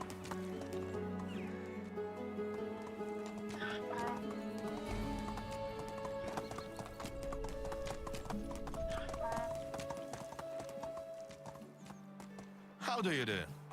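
Horse hooves clip-clopping at a steady gallop with neighing in the medieval survival game Medieval Dynasty, with in-game music and a person talking over it.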